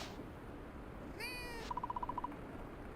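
A small purple cat in the farming game Fields of Mistria gives a short, clear meow. A quick run of bright electronic chime notes follows over a faint ambient game background.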